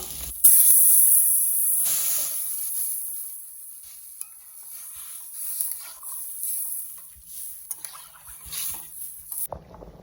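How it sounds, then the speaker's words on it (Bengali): Curry gravy with water for a taro and tilapia dish bubbling and sizzling in a pan, a steady close hiss with soft stirring and patter, no talk. "ঝোলটা ফুটে গেছে"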